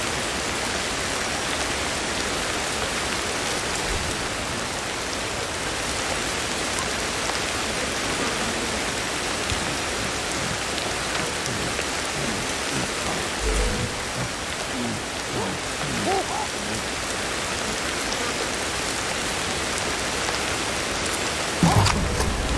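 Steady rain falls in Ancestors: The Humankind Odyssey, a dense, even hiss of drops on surfaces that lasts throughout, with a few soft thumps late on.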